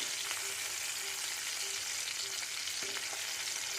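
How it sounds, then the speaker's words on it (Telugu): Moringa drumstick pieces fry in a pan until browned, a dense continuous sizzle with faint scrapes of stirring, close and steady throughout with no voices. "చూడండి, ఈ విధంగా బాగా ఫ్రై అవ్వాలి."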